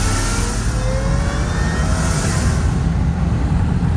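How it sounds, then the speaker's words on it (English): A Ford F150 Tremor with Tremor dual exhaust and a Whipple supercharger accelerating, giving a loud, steady roar of engine and exhaust with a faint high whine running through the rise. "Whenever you get on it though, it's a little bit louder."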